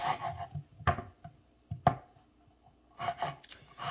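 Knife chopping a strong onion on a board, a few uneven close cuts and scrapes spaced out, then a quicker cluster of chops at the end, no talk.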